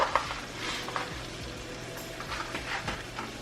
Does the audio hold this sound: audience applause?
no